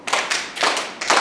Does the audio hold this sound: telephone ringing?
no